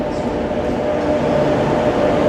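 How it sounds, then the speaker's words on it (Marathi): An oncoming Rajya Rani Express, the New Delhi–Bilaspur service, rushes past close by on the adjacent track, a steady, loud rumble and roar of wheels and carriages filling the whole stretch. "बघा समोरून गाडी आली"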